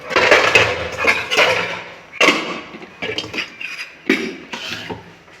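Cabbage, carrot, cauliflower and radish are cut by hand for a mixed vegetable fry in a home kitchen, with loud, uneven chopping strokes and scraping, close-up and without talk.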